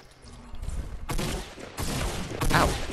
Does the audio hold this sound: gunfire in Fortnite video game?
yes